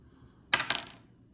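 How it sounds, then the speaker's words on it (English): A die tossed onto a table during a dice baseball game gives a short, fairly faint clatter, a sharp hit followed by a couple of quick bounces before settling, with nothing else around it. "Throw another die, it's a 4, that's 2 outs."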